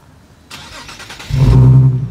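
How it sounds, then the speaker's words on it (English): A 2015 Nissan 370Z cranks briefly, then its engine catches on a cold start and settles into a loud, close, rising idle rumble. "Let me hear that cold start"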